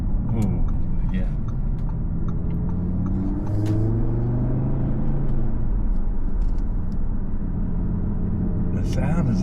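An Audi RS3 engine hums as a low, steady cabin drone during a ride, with a rising and falling tone as it accelerates, heard from inside under people chatting.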